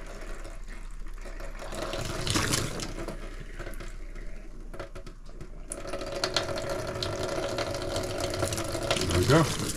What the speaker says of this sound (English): And I just run it till I see a nice flow of pink.